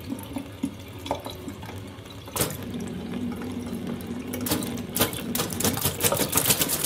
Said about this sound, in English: What do you think that jumping on jets of water sounds like?